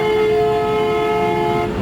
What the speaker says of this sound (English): as I go into this little bridge here, I'm going to honk my horn again